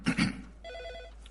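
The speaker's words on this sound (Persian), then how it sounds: "بس که تلفن همراه یه نفر داره زنگ میزنه، میشه لطفاً خاموشش کنین؟" A mobile phone ringtone chimes in a film scene, a short repeating electronic melody at moderate level following a couple of brief louder thumps, with no talking.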